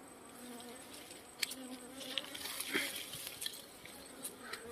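A swarm of dwarf honey bees buzzes around a large nest on a hilltop, making a continuous, fairly faint droning hum with individual bees passing close in brief louder whines.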